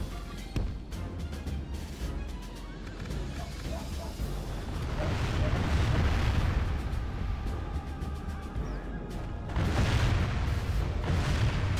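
Cannon fire in a Medieval: Total War battle, with deep booming bursts swelling around the middle and again near the end over a rumbling battlefield din.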